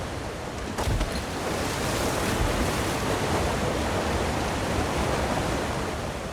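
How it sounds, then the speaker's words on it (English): A steady, dense rush of falling water from a waterfall in Elder Scrolls Online's Clockwork City, loud and close, a constant broadband roar without pause. "Behind the waterfall."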